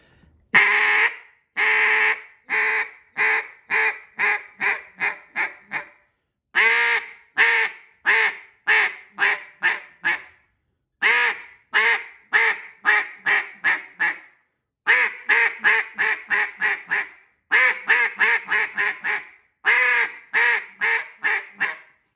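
A duck call is blown in a calling cadence: repeated runs of sharp, nasal quacks, each series stepping down and trailing off, with brief pauses between roughly eight sequences, loud and close.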